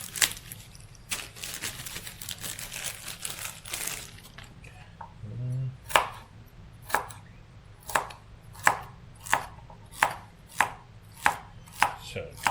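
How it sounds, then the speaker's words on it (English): A knife chops celery into small pieces on a cutting board, a run of sharp, evenly spaced thuds close up after some softer handling noise, each cut clearly separated. "cut the celery up into little pieces"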